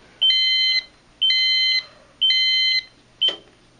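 A Silent Knight 5230 fire alarm annunciator going into alarm sounds loud, even electronic tones in three long pulses at a steady rhythm, then a shorter fourth beep, with no talking.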